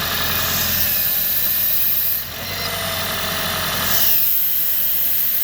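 A 2012 Lexus CT 200h engine running with a rattle from a loose EGR pipe, a steady loud mechanical drone and buzzing vibration throughout, briefly dipping midway before resuming.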